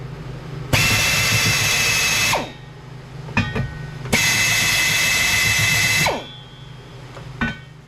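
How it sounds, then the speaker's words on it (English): A power drill chamfering bolt holes in a steel engine stand bracket for a Packard 356 engine block, two long loud whining bursts that spin down, separated by short clicks and handling noise. "One more thing, we're gonna chamfer the holes."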